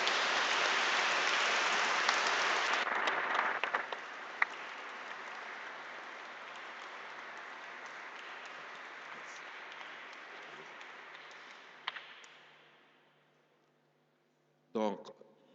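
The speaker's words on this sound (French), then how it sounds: "je vous demanderai de les encourager en les acclamant" A church congregation at Sunday Mass applauds in a dense, steady wash of clapping that lasts about twelve seconds, then thins and fades to quiet before a brief voice enters at the very end.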